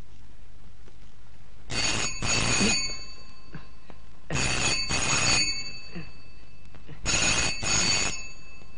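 An old-style telephone bell rings in three loud double bursts with short pauses between, in a quiet room in a 1991 Hindi thriller film; no talking.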